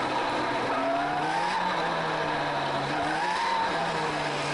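Midget race cars lapping a winter race at Atlantic City, several engines droning and shifting pitch together at a steady distance, a continuous loud buzz with no talk.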